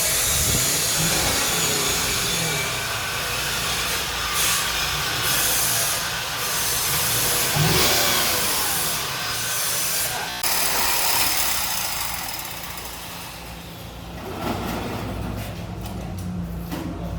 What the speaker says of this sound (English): Alright, here is stock exhaust.